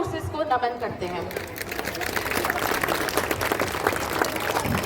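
Applause from a housing society crowd at an Independence Day celebration, building after speech into a steady, fairly loud wash of clapping that carries on to the end.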